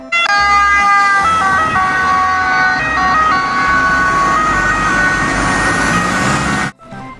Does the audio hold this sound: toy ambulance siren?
yes